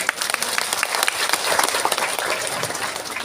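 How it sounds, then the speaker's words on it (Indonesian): A crowd at a mosque religious gathering bursts into continuous, dense applause, the clapping loud and steady for the full few seconds with faint voices mixed in. "tepuk tangan dulu dong"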